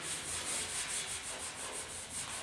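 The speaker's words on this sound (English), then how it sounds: "I'll give that a grind." Repaired steel on the inner side of a 1972 Ford 4x4 short box truck bed is ground down, a steady, close, hissing abrasive rasp with a rhythmic back-and-forth pulse, heard alone.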